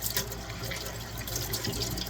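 Hot dishwater runs into a kitchen sink, a soft steady splash and trickle close by, quiet and unbroken for a couple of seconds with no voices.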